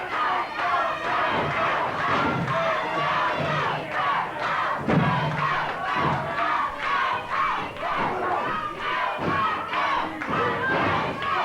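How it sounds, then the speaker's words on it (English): A live wrestling arena crowd chants and shouts in rhythmic bursts, loud and continuous, with many voices rising and falling together. "You can hear the crowd now picking up the chant."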